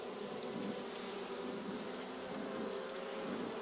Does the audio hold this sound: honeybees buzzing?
yes